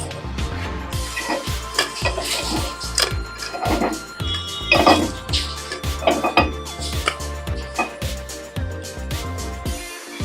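Rava appe lifted out of an appe pan onto a plate, a string of close metallic clinks and scrapes of utensil against pan at an uneven rhythm, with faint sizzling underneath.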